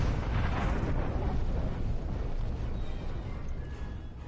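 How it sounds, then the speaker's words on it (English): A big explosion in the space video game Star Trek Online, a loud sustained rumbling roar that fills the whole moment and slowly fades, with no speech over it. "Oh, pretty explosion."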